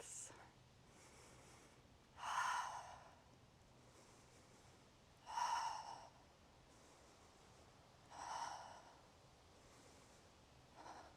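Slow, deep breaths held in a yoga plank, three soft airy exhalations evenly spaced several seconds apart, close and quiet against a faint background hiss.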